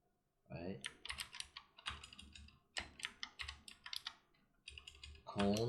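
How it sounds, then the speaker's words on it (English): Typing on a computer keyboard in quick clattering bursts of keystrokes separated by short pauses, close and clear, with faint talking at moments. "Press the tab key. I'm gonna type in cone, right?"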